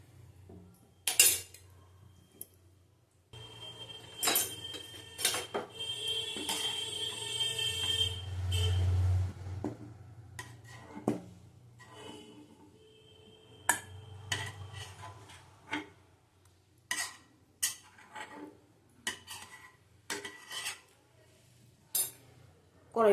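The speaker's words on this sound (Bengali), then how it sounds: "কড়াইটা ধুয়ে নিয়ে আসছি" A metal karahi is scrubbed and rinsed in a home kitchen, giving irregular clanks, scrapes and clinks of cookware in bursts over running water, loud and close, with pauses between.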